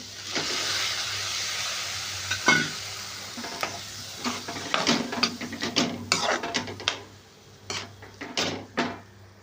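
Garam masala and green peas sautéed in a pan for a peas paratha filling, a spoon scraping and stirring in repeated quick strokes over a continuous sizzle, close and clear with no speech.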